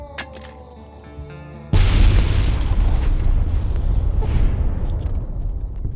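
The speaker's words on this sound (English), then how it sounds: "The holy hand grenade." A holy hand grenade goes off in Fallout New Vegas, a sudden loud blast that cuts through a quiet tonal background and then rolls on as a long rumbling tail.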